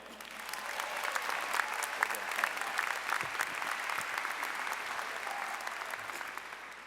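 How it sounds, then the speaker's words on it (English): Audience applause at a 2018 university undergraduate graduation ceremony in Providence, honoring Dr. John Taylor: a steady, dense wash of many hands clapping throughout, fairly distant in a large hall, with no talk over it. "Please join me in giving a round of applause for Dr. John Taylor"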